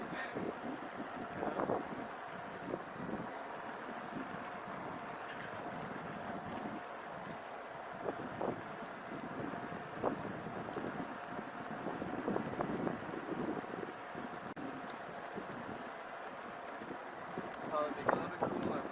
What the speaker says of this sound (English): the wind blowing